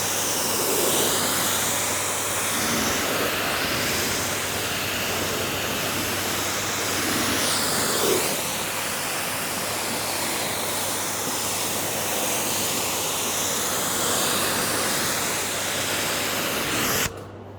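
An Active 3.0 pressure washer rinses at high water flow, a loud, steady hiss of spray running without pause for many seconds before cutting off abruptly at the end.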